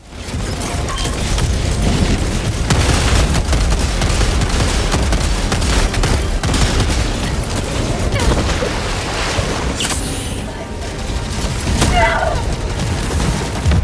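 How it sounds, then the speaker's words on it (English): Constant dense barrage of gunfire, laser blasts and explosions in the video game Helldivers 2, loud and unbroken throughout with booming impacts layered over rapid firing. "Thankfully, I have the objective itself to shield me from the various lasers and explosions being tossed my way"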